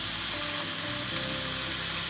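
Soy sauce hitting hot fried rice in a pan while cooking nasi goreng with Mamee Monster snacks, giving a steady, close crackling sizzle that holds for the whole stretch with no talking.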